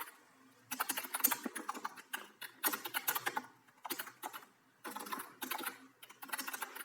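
Rapid typing on a computer keyboard while writing React code, bursts of close, crisp key clicks separated by short pauses, no talking.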